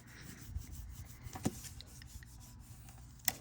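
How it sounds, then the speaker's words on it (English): Folded paper on a scrapbook folio is burnished with soft, close rubbing strokes, punctuated by a couple of sharper scrapes, quiet and without talk. "And then you're going to go ahead and burnish it."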